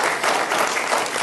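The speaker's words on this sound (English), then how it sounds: "see if we can begin it with applause" Steady applause from the audience in a Mesa, Arizona council chamber, dense and continuous for the whole short stretch without a break.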